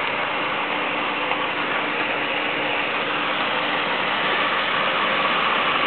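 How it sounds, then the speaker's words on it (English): A backyard pool pump runs without pause, giving off a steady, close mechanical hum and whir with a faint rattling texture and no talking. "Here's the pool pump."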